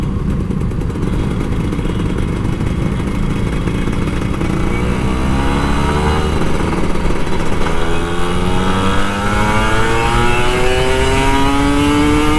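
A Kawasaki Ninja RR 150 motorcycle accelerating on a Jakarta street at night, its two-stroke engine revving steadily upward in rising pitch, loud and close, with continuous traffic rumble and no talking.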